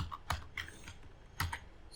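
Close computer-keyboard typing while CSS code is entered, with separate key clicks arriving in small uneven bursts and short pauses between them, and no one speaking.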